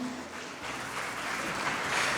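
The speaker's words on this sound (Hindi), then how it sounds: "ज़ोरदार तालियों के साथ उनका उत्साहवर्धन करते हैं" Audience applause for class 10 girls after a performance at a school Grandparents Day celebration, a continuous, even crowd clap heard alone and moderately loud.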